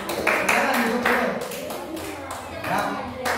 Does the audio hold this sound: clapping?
yes